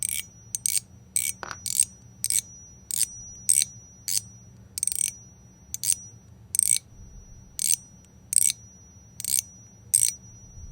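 A Feng Ling wind chime bell rings in short, bright strikes, about a dozen irregularly spaced tings with silence between them over a faint low hum.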